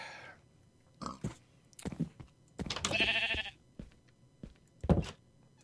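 Sheep in the video game Minecraft bleating repeatedly, several short separate baas spaced through a quiet stretch, fairly close and clear with silence between calls.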